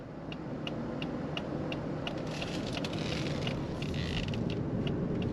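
A quiet 2.5-liter four-cylinder naturally aspirated engine in a 2025 Lexus ES 300h hums steadily while driving, with faint road noise and light ticking or creaking throughout.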